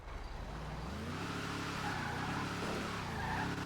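In a video game, a muscle car lands a jump and skids. The tires squeal over a droning engine whose pitch wavers up and down, loud and sustained throughout.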